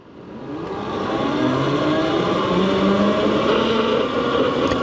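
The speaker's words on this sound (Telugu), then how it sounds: "ఆ మిడ్ డ్రైవ్ మోటార్ సౌండ్, ఆ చైన్ సౌండ్ మనకి క్లియర్గానైతే వినిపిస్తుంది" A Hyena M1 Lite electric scooter with a metal body and a mid-drive motor pulls away. Its motor whine and chain noise rise steadily into a loud, sustained drone with climbing tonal lines as it accelerates, with no voices.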